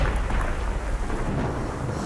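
A continuous thunderstorm rumbles with heavy rain in the Slenderman's Shadow video game, a deep, steady roar filling the short stretch with no speech.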